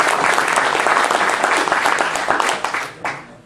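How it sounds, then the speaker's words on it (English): A short round of applause from a Rotary club meeting audience at a brewery, honoring a speaker named Rob; dense clapping that tapers off toward the end. "Okay, let's give Rob a round of applause."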